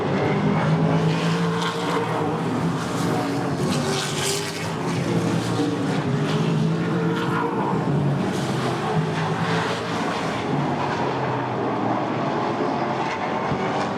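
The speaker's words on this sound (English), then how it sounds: "79 of Tim Olson is off the pace down the front stretch" Race cars roar steadily at I-94 Raceway during a 2008 feature race, a loud, continuous engine drone for the whole stretch with no talk over it.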